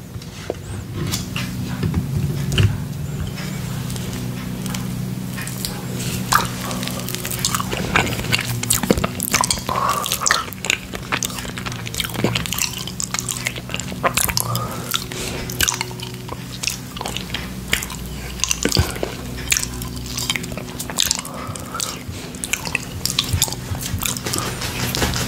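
Lemon cheesecake pie being licked off a plate, close and intimate: continuous wet smacking, slurping and sticky mouth sounds with frequent small clicks, no talking.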